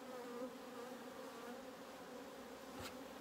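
Honey bees buzzing in a dense, continuous drone over an opened spring nuc colony during a hive split, close and steady throughout.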